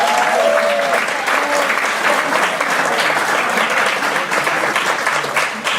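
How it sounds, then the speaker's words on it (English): A keynote audience in Seattle breaks into sustained applause for a colleague, dense clapping that holds steady for several seconds with faint voices mixed in. "we should give her a round of applause"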